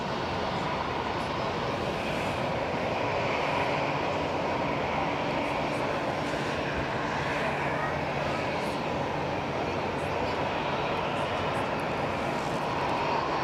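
Turkish Airlines airliner taking off at Cologne Bonn Airport, a steady broadband jet engine roar held at constant loudness throughout, fairly distant and with no quieter gaps.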